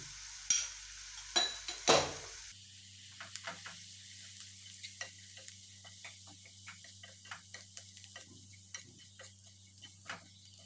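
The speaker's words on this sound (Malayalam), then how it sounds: "നന്നായിട്ടൊന്ന് വഴറ്റിയെടുക്കുക." Spices with coriander and chili powder stirred and sautéed in a pan, a few loud knocks at first, then soft regular ticking scrapes of a spoon over a faint sizzle.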